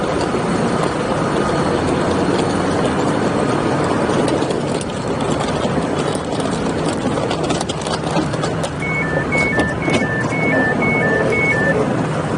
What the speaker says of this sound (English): Same irritating door tone on the new Elizabeth line trains.